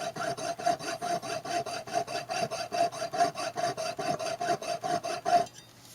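A hand saw cuts through a small .999 silver casting in steady, even back-and-forth strokes, about three per second, close and fairly loud, stopping abruptly near the end.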